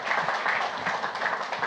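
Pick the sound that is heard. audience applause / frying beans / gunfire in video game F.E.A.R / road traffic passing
audience applause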